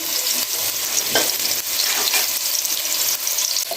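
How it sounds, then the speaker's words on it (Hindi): Cumin and ginger-garlic paste hit hot oil with a loud, close, continuous sizzle and crackle. Light stirring scrapes sound through it. "थोड़ा सा ये जाएगा और साथ ही इसमें ये जाएगा अदरक लहसुन का पेस्ट।"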